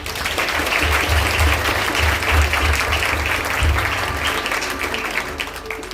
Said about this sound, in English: Come on, devotees, applaud our students